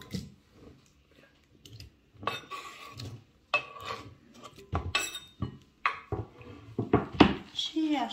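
A knife cuts cantaloupe melon into small cubes, giving irregular soft taps and clacks against a board with light bowl and utensil clinks, close and fairly quiet, a voice speaking intermittently.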